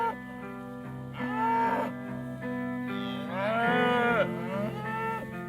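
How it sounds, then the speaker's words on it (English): Cattle on a Nevada County ranch moo in two long, drawn-out calls close by, each swelling and fading over a low steady background hum. "We'll have like 25 cows, they'll have 25 calves on them."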